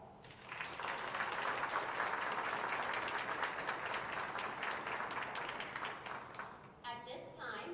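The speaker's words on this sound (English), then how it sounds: "Please give our students a round of applause." A crowd at a high school National Honor Society induction ceremony applauds, sustained dense clapping building quickly and holding steady before tapering off, with a voice starting to speak at the end.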